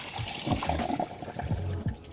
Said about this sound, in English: I got a little bit more water, and we're gonna pour it in and see if it just sits